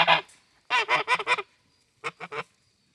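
A pet goose honks loudly and close by in three bursts: a single honk, then a quick run of four, then three shorter honks after a pause, with no talking over it.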